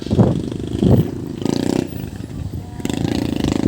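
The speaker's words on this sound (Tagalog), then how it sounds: "Tricycle and single na motor." Tricycle and single motorcycle engines pass on a road near windmills in Pililla, Rizal, with two loud low bursts early on and then a steady engine drone that swells again toward the end.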